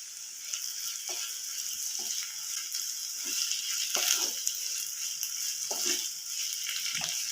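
Sliced garlic and long-cut ginger sizzle steadily in hot oil in a pan, a continuous close hiss punctuated by soft scrapes and stirs, with no talk.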